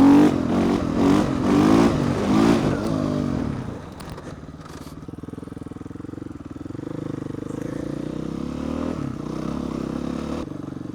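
A dirt bike climbs a volcano on a wheelie. The engine revs loudly and roughly for the first few seconds, then drops to a lower, steady drone with some scraping and clatter.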